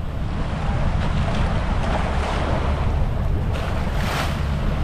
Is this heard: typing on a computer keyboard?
no